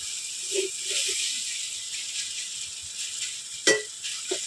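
Onion frying with okra and potato in a pan, a steady hissing sizzle with a few soft stirring scrapes and one sharp clatter near the end.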